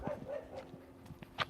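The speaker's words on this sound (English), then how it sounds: "whoa, where's that dog at?" A nearby dog gives several short yips and barks, scattered and uneven over a low background hum, moderately quiet and heard without talk.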